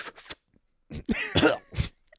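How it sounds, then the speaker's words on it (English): A man coughs in two short bursts, then after a brief pause gives a longer, harsher run of coughs and throat clearing, close and loud, with no talk. "So he starts coughing."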